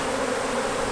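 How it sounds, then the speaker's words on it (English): A swarm of honey bees hums in a dense, steady buzz, close and continuous for a short moment with no voices. "That is a lot of bees."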